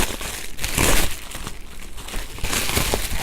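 Bubble wrap and packing tape crinkle and rustle up close as a thrifted designer handbag is unwrapped, with a steady run of crackling handling sounds and louder bursts of crumpling.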